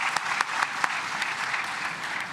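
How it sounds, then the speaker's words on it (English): Applause from an audience, a dense patter of clapping with a few sharper claps standing out, steady and fairly close. "A round of applause, please."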